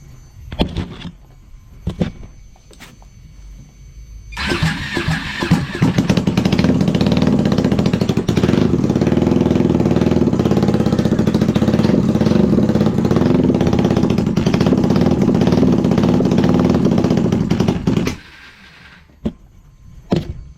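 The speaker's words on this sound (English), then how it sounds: "a little small clip of it actually coming to life for the first time" A Ducati 1199 engine swapped into a Honda Grom and run on a FuelTech ECU cranks and fires for the first time, then runs loud and close for about thirteen seconds before shutting off, with faint clunks before and after.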